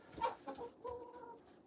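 Rhode Island Red chickens clucking nearby in a short burst of several calls, soft and close, with no talk over them.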